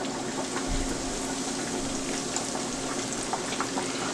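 Pork chops deep fry in hot peanut oil, giving a loud, steady, dense sizzle and crackle with small pops scattered throughout and no talking.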